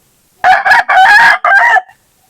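Chickens crow and cluck loudly up close while a hen is carried over to a gamecock, several bursts in quick succession.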